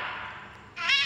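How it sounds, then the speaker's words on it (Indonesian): A cat meows inside the Minecraft video game, a short synthesized mew bursting out near the end after a stretch of quieter game sound, fairly close and clear. "Ada kucing."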